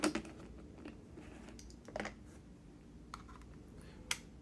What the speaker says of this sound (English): Memory card goes in.